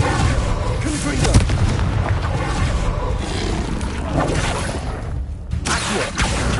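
A Confringo fire spell blasts in a Hogwarts video game, with loud, booming explosive bursts and rumbling over a dense, continuous roar of in-game action.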